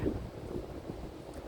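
Cold outdoor wind buffets the microphone with a steady low rumbling roar, constant and close, with no voices.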